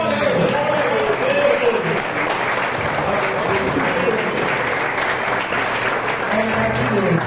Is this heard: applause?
yes